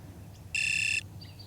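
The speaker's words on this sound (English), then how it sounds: "So that beep there was on the Mini 2." A Garmin inReach Mini 2 satellite communicator gives a single short, bright electronic beep about half a second long, clear and close, with a fainter chirp after it.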